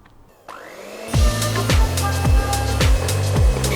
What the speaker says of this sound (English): Dump the chocolate mixture into the eggs and briefly mix together on low.